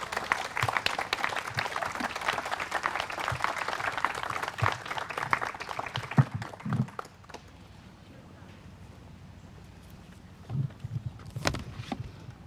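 An outdoor Juneteenth crowd at a historic tannery gives a round of applause, strong at first and thinning into scattered claps, with some voices and louder knocks near the end.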